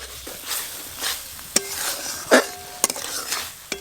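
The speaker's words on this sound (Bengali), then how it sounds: "মশলা ভালো করে কষে নিয়েছি" Turmeric, chili powder and salt fry in a pan for a vegetable khichuri while a metal spoon stirs and scrapes, giving a soft sizzle broken by sharp clinks and ringing taps, close, no voices.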